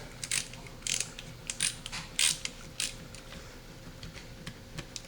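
A screw is tightened during reassembly of a Marlin 336 rifle, giving irregular bursts of close, crisp ratcheting clicks and small creaks in a quiet room with no talking.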